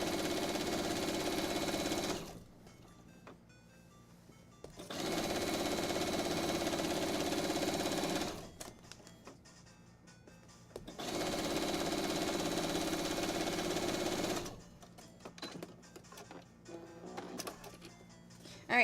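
A sewing machine stitches quilt binding in three steady runs of a few seconds each, a close, even whirring hum with quiet pauses between runs as the fabric is adjusted.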